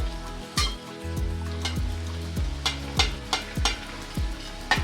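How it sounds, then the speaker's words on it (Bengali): Puri frying in hot oil in a home kitchen, with a constant sizzle and a series of sharp clinks and taps from a utensil against the pan, close and clear with no talking. "সেটা কিন্তু আমি গরম তেলের ভিতর দিয়ে দিয়েছি"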